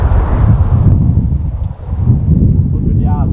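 Wind gusting across an open golf course, a steady low rumble of buffeting against the microphone throughout, with a brief lull midway and a person speaking faintly near the end.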